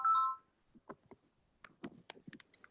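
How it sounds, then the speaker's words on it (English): A short electronic telephone tone sounds at the start during a quantum chemistry lecture, followed by quiet scattered clicks and faint handling noises. "There's a phone call."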